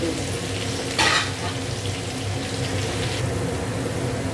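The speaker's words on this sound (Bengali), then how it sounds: "এদিকে উচ্ছেটা ভেজে নিই, এখানে দিয়ে এবার ভেজে দিচ্ছে।" Steady, close sizzling of bitter gourd frying in a pan, with a brief louder burst of spitting early on; no voices.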